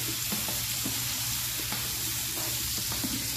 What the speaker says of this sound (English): We're going to simmer it together.